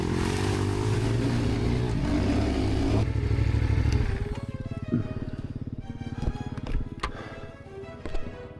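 A CFMoto CF450MT engine revs hard on the throttle with a loud, rough roar, then cuts back to a lumpy idle punctuated by several sharp throttle blips and clattering bursts.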